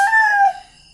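A rooster crows once at dawn in the Philippines, a clear, close call with a bright sustained note that trails off, with no talk over it.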